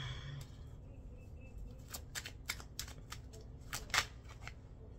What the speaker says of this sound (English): I just ain't in the mood to pick these cards up off the floor